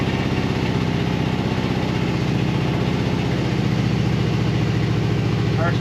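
A 1975 International 200 truck with an automatic transmission idles as it warms up, a steady, even low rumble with a regular pulse, close and continuous throughout.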